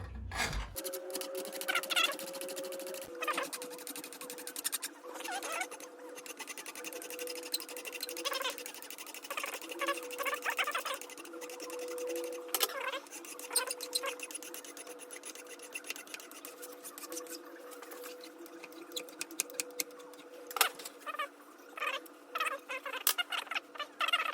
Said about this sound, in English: When you want to remove a lot of aluminum quickly, you need a good Vixen file.